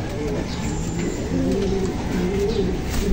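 Racing pigeons coo steadily inside a cage while being trained for a North Derby race, their low throaty calls close and continuous, with faint human voice or background noise mixed underneath.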